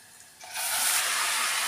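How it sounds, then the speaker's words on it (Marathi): Mutton goes into a pan of fried chopped onions, and a loud, broad sizzle jumps up and holds steady, with no voices. "आपण मटण टाकून घेऊया"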